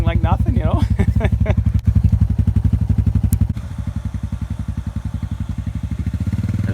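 Carbureted old motorcycle engine idling, with its carb on a tilt, a rapid steady thumping pulse, loud and close, with someone briefly talking over it at the start.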